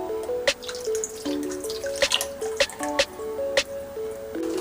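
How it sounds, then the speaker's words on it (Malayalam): Water is added to a pressure cooker while making chicken biryani, heard as a series of close drips and splashes over steady background music. "ഇപ്പോൾ 3 ഗ്ലാസ് വെള്ളം ചേർക്കുന്നു"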